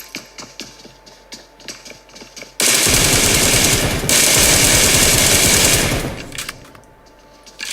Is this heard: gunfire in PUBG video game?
yes